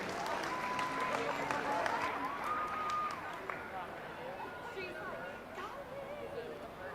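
Applause and crowd noise for Class 3 exhibitors at a youth steer and beef cattle show ring, a steady wash of clapping that holds for several seconds with faint murmur underneath.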